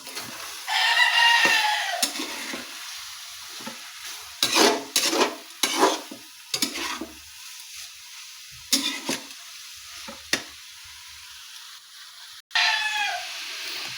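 Food frying in a pan, likely eggs, is stirred in bursts of sizzling and scraping, close by, with a rooster crowing in the background at the start and end.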